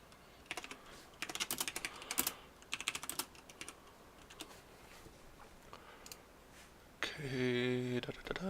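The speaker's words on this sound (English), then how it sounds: "my keyboard clanking" Clattering computer keyboard typing in quick uneven bursts of close, crisp keystrokes, pausing now and then, followed by a voice talking at the end.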